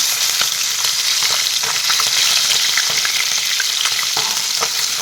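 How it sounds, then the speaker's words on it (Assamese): Fish frying in a pan of hot oil gives a loud, dense, continuous sizzle with scattered sharp crackles and pops, close up and without any talk. "প্ৰথমতে এয়া মাছকেইটা মই ফ্ৰাই কৰি ল'ম।"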